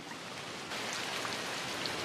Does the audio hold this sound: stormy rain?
yes